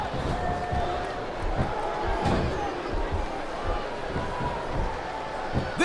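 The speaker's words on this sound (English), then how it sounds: "Now the fans start to cheer for him." A crowd in WWE SmackDown vs Raw 2007 cheers as a steady roar behind a wrestling match, with slams and thuds in the ring and commentators talking over it.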